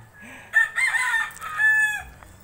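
A rooster crows once, close and loud, in a long drawn-out call with a rising then falling tail and faint background noise.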